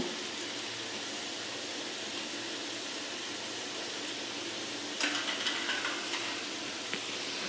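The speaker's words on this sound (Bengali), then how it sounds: "সো সবাই চেষ্টা করবেন ক্রিস্পি করে ভেজে নেওয়ার জন্য" Egg-coated potato French fries fry in hot oil, giving a steady, even sizzling hiss throughout, with a brief burst of stirring or bubbling clatter near the end.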